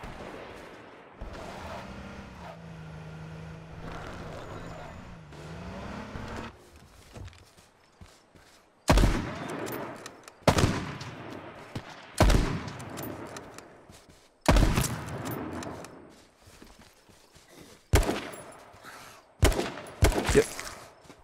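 Gunfire in H1Z1: Just Survive arrives as a series of sharp, loud shots spaced a few seconds apart, each with a short decaying tail, after a quieter opening with a low engine-like hum.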